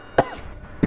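Two short coughs, close and fairly loud, spaced apart with quiet between them.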